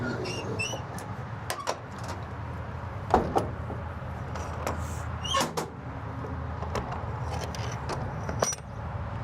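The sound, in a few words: door shutting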